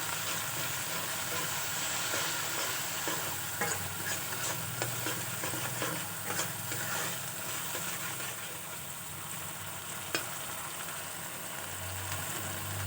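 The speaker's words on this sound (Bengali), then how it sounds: "এখন দিয়ে মশলাটাকে ভালো করে কষাতে হবে" Spice masala with chili powder and salt being stir-fried in a pan, a steady close sizzling hiss with scraping stir strokes throughout, no talking.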